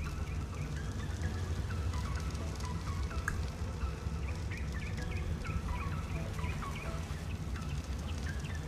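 Gobbling, turkey-like bird calls from a creature in Ark Survival Evolved (Scorched Earth), repeated chirps and squawks over a steady low rumbling game ambience.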